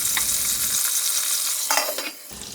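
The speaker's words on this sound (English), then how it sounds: "Add the butter and wait for it to melt" Butter melts and sizzles in a frying pan alongside salmon, a steady close crackle with brief stirring or scraping touches partway through, no talk.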